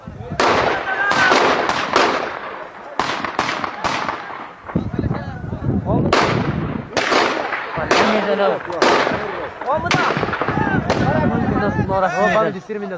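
Repeated sharp gunshots crack close by during a battle in Afghanistan between Taliban and Northern Alliance fighters, single shots and quick bursts in irregular clusters, with shouting voices mixed in between.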